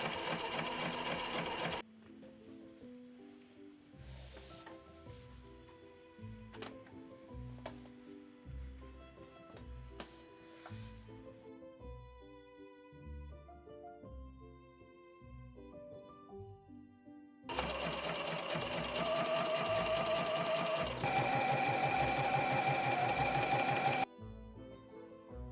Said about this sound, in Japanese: 順番に縫い代何センチでもいいので 縫ってください。